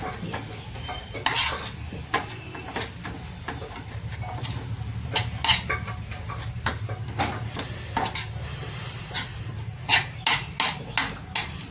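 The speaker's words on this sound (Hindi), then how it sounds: "टमाटर को हम चम्मच से मैश कर देंगे।" A spoon mashing tomatoes in a pan of cooking vegetable curry, repeated sharp taps and scrapes against the metal in an uneven rhythm over a low sizzle, close and fairly loud.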